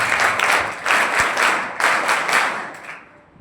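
Crowd applause for a student honoree at a 12th-grade board exam merit award ceremony in a school, loud bursts of many hands clapping that swell in waves, then fade away at the end.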